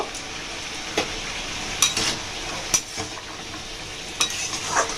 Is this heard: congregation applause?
no